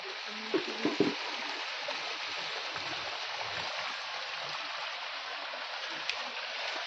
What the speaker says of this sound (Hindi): आवाज़ भी कितनी अच्छी आ रही है शिवलिंग के पास में झरना बहने की